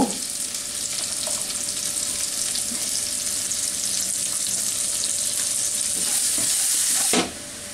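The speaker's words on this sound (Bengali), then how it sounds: "আমি আরো অল্প একটু তেল দিয়ে এর মধ্যে অল্প একটু পেঁয়াজ কুচি, স্বাদ মতো, কত মাঝারি সাইজের একটা পেঁয়াজ কুচি করা আর কি, পেঁয়াজটুকুকে ভেজে নিব" Chopped medium onion frying in a little oil in a pan, a steady close hiss of sizzling that runs throughout with faint scraping stirs, cutting off sharply near the end.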